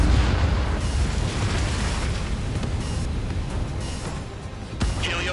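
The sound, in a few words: missile explosions in Ace Combat 7 video game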